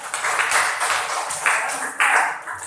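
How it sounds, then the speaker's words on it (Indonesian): Classroom children clap for a student named Sophia after her multiplication answer, a burst of quick, close handclaps in uneven waves, with young voices mixed in. "Tepuk tangan untuk Sophia."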